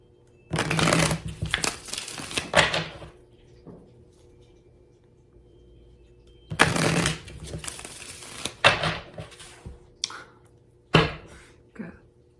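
Tarot cards being shuffled by hand in two long riffling bursts, crisp and close, with short taps and card handling between them and quiet gaps.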